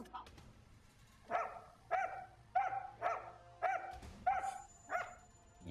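A dog barks about eight times in a regular, evenly spaced series, moderately close, each bark short and sharp, with a faint bit of other sound at the start.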